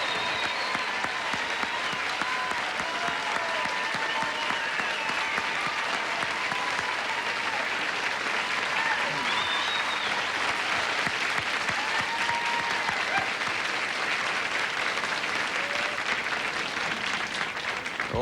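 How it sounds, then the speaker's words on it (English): A large audience at a country music show applauds steadily for a returning performer, a dense, unbroken wash of clapping that holds at the same level throughout. "give a big round of applause to an old friend who is back tonight"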